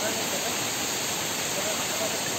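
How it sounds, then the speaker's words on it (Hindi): Steady broadband rush of a waterfall pouring from high above on Nakkati Hill in Assam, a dense continuous wash of falling water heard close and even throughout. "ये जो वाटरफॉल है वो बहुत ऊपर से आ रहा"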